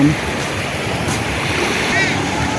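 Strong wind buffets the microphone on a white-sand beach at the Sattahip naval base in Chonburi, Thailand, with a steady roar and gentle surf underneath and a brief bird-like chirp near the end.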